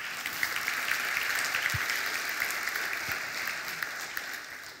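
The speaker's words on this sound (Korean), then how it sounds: "박수 한번 쳐주세요" Steady applause from a church congregation at a Friday worship service, a continuous patter of many hands clapping that holds evenly for several seconds without voices over it.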